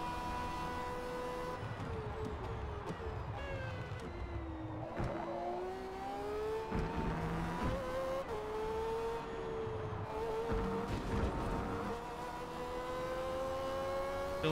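An X class race car in Forza Motorsport roars continuously, its engine pitch climbing and dropping through gear changes as it accelerates along the track, loud and steady with no talking.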